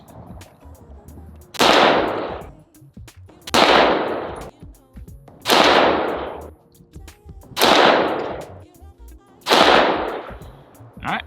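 Five loud, evenly spaced shots from an Agency Arms Glock 17 pistol firing ball ammunition, each a sharp crack with a decaying ring, about two seconds apart, with quiet outdoor background between them.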